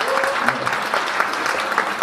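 An audience at a Korean tattoo association awards ceremony and year-end party claps steadily throughout, a dense patter of many hands with a voice briefly audible beneath.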